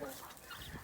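Purebred Plymouth Rock chickens on a farm give a brief, soft bit of clucking against a noisy outdoor background, faint and short.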